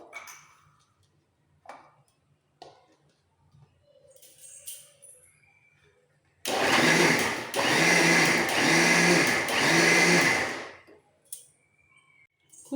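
A kitchen blender whirs a coconut lassi in a single loud burst of about four seconds, its motor pulsing in a steady rhythm, with quiet kitchen clatter before and after.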